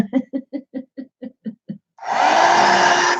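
Nine short laugh-like bursts give way to a loud, steady hair dryer roar that blows continuously for over a second, drying wet paint on paper.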